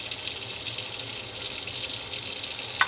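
Water from cooked pasta draining in a steady hiss, like a running tap into a kitchen sink, constant and moderately faint with a small clink near the end.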